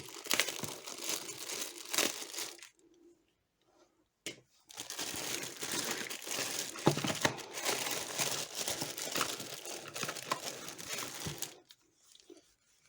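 Crinkling and tearing of packaging as a parcel from Japan holding game cartridges and games is unwrapped, dense rustling bursts with a short quiet pause, close and fairly loud, no talk.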